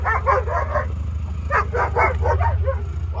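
Several dogs bark in rapid bursts close by in a yard, yips and barks clustering in two bouts over a steady low rumble, likely a vehicle backing in.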